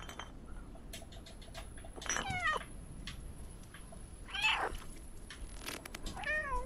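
A cat meowing in the video game Stray, three short rising-falling meows spaced a couple of seconds apart over a faint ambient background with small clinks.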